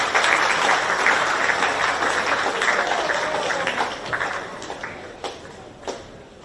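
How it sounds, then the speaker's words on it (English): Crowd applause at a school athletics championship prize presentation, steady clapping that slowly thins out, with a few last scattered claps near the end. "A round of applause."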